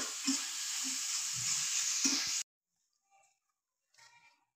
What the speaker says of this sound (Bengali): এখন আমি এগুলো এর ভিতরে দিয়ে নাড়াচাড়া করতেছি।